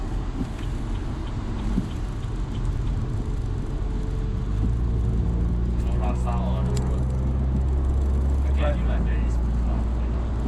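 BMW F30 320i sedan cruising on a highway, a steady low road and engine drone filling the cabin with tire rumble throughout, while people talk over it.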